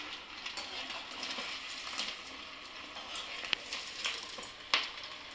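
Fritters fry in hot oil with a soft, continuous sizzle and crackle, punctuated by a few sharp pops and spatters near the end, fairly quiet and close with no talking.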